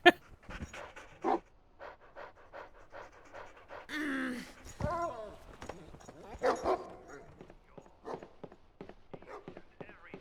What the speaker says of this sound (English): Behold, one of my favorite dogs in video games.